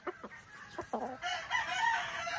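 A rooster crows loudly and close by, preceded by a few short clucks from chickens, with faint outdoor background noise.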